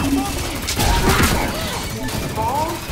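Gunfire and impacts from the LawBreakers PC beta, a burst of loud shots near the middle over a busy mix of game effects, with a voice talking through parts of it.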